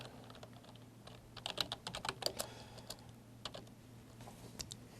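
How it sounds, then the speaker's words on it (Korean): Quick, irregular typing on a computer keyboard, with bursts of clustered key clicks, quiet and close, over a steady low hum. "자료 보면서 저도 타이핑 할게요"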